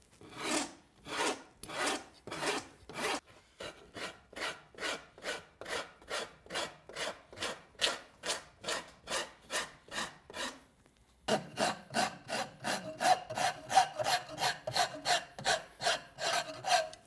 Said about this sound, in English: that's going to cut through this rawhide, take just a little bit of this wood off